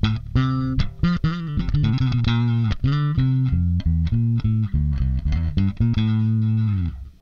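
A bass guitar in a metal pedalboard setup plays a busy riff with a full, even, compressed tone, its notes punchy and clean without obvious grit.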